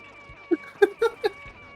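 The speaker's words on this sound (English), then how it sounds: "there's no cooldown on that meow sound effect" Cartoonish cat meow effect in a retro video game, four short pitched meows in rapid succession over a faint steady background tone.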